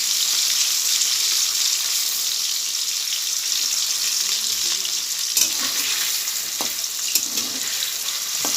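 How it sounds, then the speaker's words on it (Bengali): Paneer cubes fry briefly in a pan with a loud, continuous close-up sizzle, broken by occasional scraping stirs and a few sharp clinks, with nobody talking. "হালকা করে ভেজে নেব, বেশিক্ষণ ভাজবো না।"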